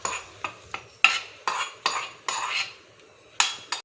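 A spoon clinks and scrapes against a pot in short separate strokes while mixing mango sakkarai pongal, close and clear with brief pauses between.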